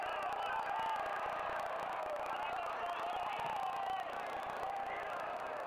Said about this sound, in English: The crowd is at minimum agitated.